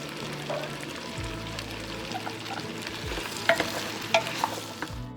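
Katoogo, a Ugandan dish, sizzling in a pan as it is stirred, with a low continuous crackle and a few sharp scraping clinks toward the end, heard close with no talk.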